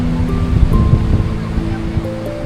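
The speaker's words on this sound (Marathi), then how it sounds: "आता समुद्रामध्ये खूप सारा वारा आहे, वादळ आहे" Strong wind and stormy sea at Devbag Beach, Malvan. The roar is loud and continuous, with rumbling surf and gusts buffeting the microphone.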